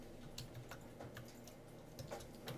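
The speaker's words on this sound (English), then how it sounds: "Now I need to type in some movies." Soft, uneven keystrokes clatter on a computer keyboard, a quiet run of light clicks in an irregular rhythm with no talking.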